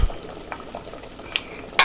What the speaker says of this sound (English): So I'm going to be pouring that into the soup.